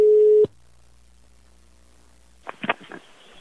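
Telephone ringing tone on a call: a steady electronic tone runs briefly, stops, leaving a low line hum, then a few faint clicks and noises come over the line near the end.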